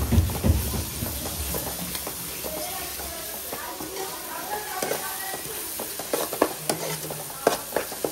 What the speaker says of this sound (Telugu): ఆ పేస్ట్ దీంట్లో వేసుకొని కలుపుకోవాలి